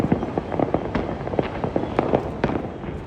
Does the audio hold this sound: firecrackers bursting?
yes